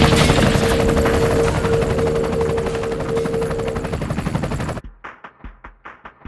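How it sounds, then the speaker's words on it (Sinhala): A helicopter from a film trailer plays through a home theater surround system: a loud continuous roar gives way to a rhythmic series of rotor thumps that fade out. "හෙලිකොප්ටර් එකක් ගිය ෆිල්ම් එකේ මෙහාට ආව වගේ හැවුනේ හෝම් තියටර් එකේ සරවුන්ඩ් සවුන්ඩ් නිසා"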